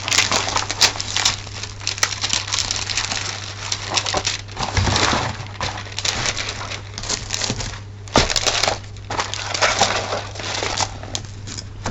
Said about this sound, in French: je vais enlever les plis déjà de ce papier